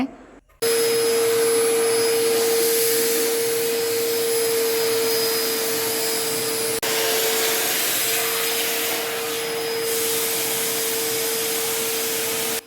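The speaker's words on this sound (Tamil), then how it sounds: "இந்த வேக்யூம் கிளீனரில் இருக்கக்கூடிய அந்த பைப் வச்சு யூஸ் பண்ணி அப்படியே எடுத்துட்டோம்" An Agaro Ace vacuum cleaner with its pipe attachment runs steadily and loudly, sucking dirt off a window, starting abruptly and droning on for the whole stretch with no talk.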